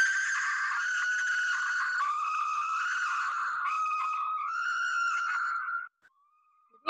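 A chimpanzee mother screaming loudly while giving birth, a sustained, piercing high-pitched shriek that shifts pitch in steps for about six seconds, then breaks off into near silence before a brief final burst.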